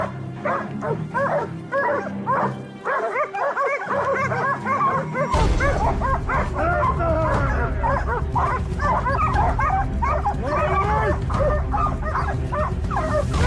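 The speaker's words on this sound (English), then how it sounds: "our hunting dogs never gave up the chase" Hunting dogs chasing a wild boar bark and yip repeatedly in quick, excited bursts, close and loud, with whimpering mixed in and a low rumbling background that swells partway through.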